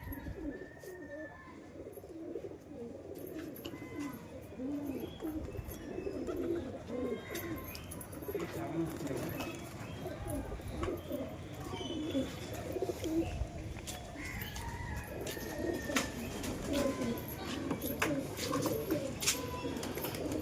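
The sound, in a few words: pigeons cooing and flying from a rooftop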